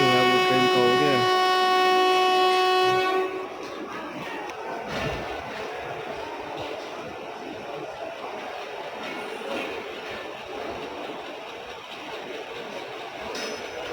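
Pakistan Railways passenger express at night just after departure: steady rumbling wheels and carriage noise close by, preceded by a loud tonal horn or whistle blast at the start, with faint talk underneath.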